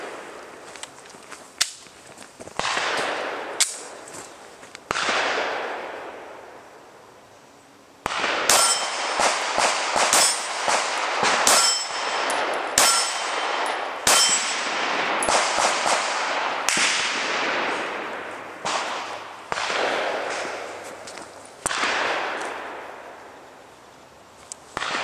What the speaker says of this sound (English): Gonna be doing a rear recoil, shooting a 14-inch gong.